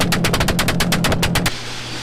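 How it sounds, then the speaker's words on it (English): Rapid pops and bangs from the anti-lag system of a Mitsubishi Evo crackle out in a fast, loud burst of about a dozen sharp reports that stop abruptly and leave an idling exhaust rumble. "We're gonna bang off a bunch of anti-lag or spark cut"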